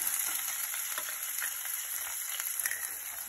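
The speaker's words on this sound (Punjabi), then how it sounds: "ਹੁਣ ਮੈਂ ਪਿਆਜ਼ ਭੁੰਨ ਰਹੀ ਹਾਂ।" Chopped onions frying in a pan while dal tarka is cooked, with cumin, garlic and ginger already added; a continuous bright, dense sizzle with no talking.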